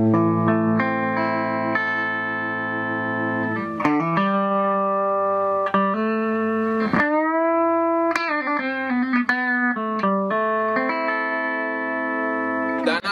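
A Sterling by Music Man CT30 HSS Cutlass electric guitar on its humbucker pickup rings out through a clean amp with sustained chords and single notes, loud and clear with no talking.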